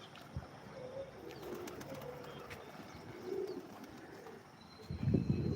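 Pigeons kept for flying coo softly during rainy-season weather under cloudy skies, with a few faint, low calls over quiet outdoor background and a louder rustling gust near the end.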